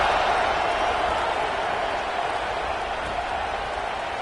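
A stadium crowd in a football video game roars in a steady, loud wash of cheering and applause that holds constant throughout, with a commentator's voice faintly present.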